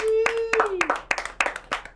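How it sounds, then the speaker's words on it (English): A few sharp, scattered claps ring out over a sustained tone and talking, sounding like brief, thin applause rather than a full crowd. "Give them a round of applause."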